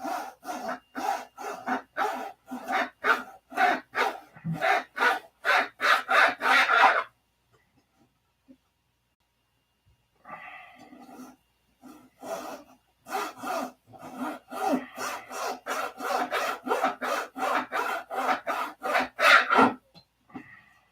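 Hand saw cutting through a small piece of wood, a fast run of rasping back-and-forth strokes, then a pause of a few seconds before steady rhythmic sawing resumes, close and loud with no talk.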